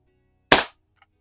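A single sharp crack from an old Crosman Model 1 .22 caliber pump air rifle fired indoors in a garage, short and close with a quick decay, followed by a faint tick.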